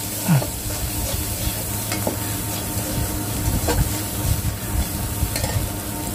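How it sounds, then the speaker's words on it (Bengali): Ginger paste frying in a pan over a village clay stove, with a steady crackling sizzle and occasional stirring scrapes and clicks, moderately loud and continuous with no voice. "আদা বাটাটা একটু ভাজা হয়ে গেলে বা হালকা একটু কষানো হয়ে গেলে"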